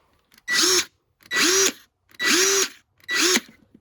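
A power drill's chuck spins in four short whirring bursts with brief pauses between, each rising and settling in pitch as it tightens on a nut driver bit, close and loud with no talk.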